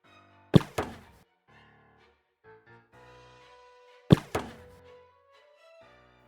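Leviathan ghost in the Roblox game Demonology hurling several objects at once, heard as two loud sharp impacts a few seconds apart, each followed by a second thud and faint ringing tones.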